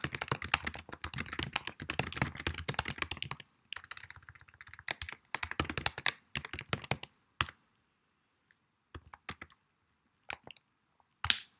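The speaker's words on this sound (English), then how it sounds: "Let's type that." Fast, close typing on a computer keyboard, dense clattering keystrokes with brief pauses, then thinning to a few scattered key clicks.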